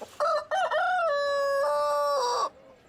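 A rooster crows once, loud and near, a full drawn-out cock-a-doodle-doo lasting over two seconds with a sharp start and a tapering end, heard alone.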